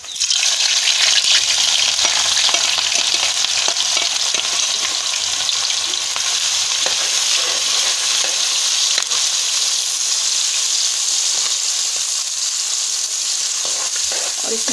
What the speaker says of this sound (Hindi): हमने हमेशा की तरह पहले तेल गर्म करने के लिए रखा था। अब इसमें हम प्याज ऐड करेंगे।